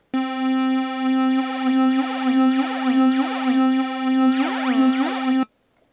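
Sustained synthesizer tone from the Massive soft synth run through a flanger with heavy feedback, giving repeated sweeping, whooshing comb-filter swirls over a steady held note; loud, close and alone, cutting off abruptly near the end.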